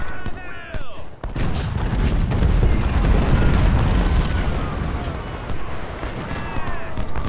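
Cannon fire against an enemy unit in the Civil War strategy game Ultimate General: Civil War, heavy booming blasts rolling over a dense, continuous battlefield din with a brief lull near the start.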